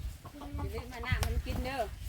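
Chickens raised by a woman cluck in a short burst of close, overlapping calls, several rising, rapid clucks in quick succession with low rumbling background noise.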